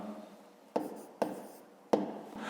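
Pen strokes writing a fifth-grade math solution on paper, three short scratchy bursts spaced apart over a quiet background, close and fairly soft, no talking.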